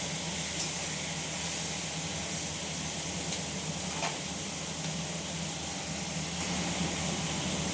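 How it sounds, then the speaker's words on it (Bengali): Vegetables stir-fry in a pan in a home kitchen, giving a steady, close hiss and sizzle that holds evenly throughout, with a couple of faint scrapes and no speech. "এবার সবজিটা একটু নেড়ে চেড়ে ভেজে নেব।"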